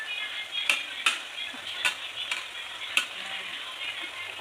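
Slices of tempeh frying in a pan with a steady, close sizzle, broken by several soft clatters and taps as pieces are turned over.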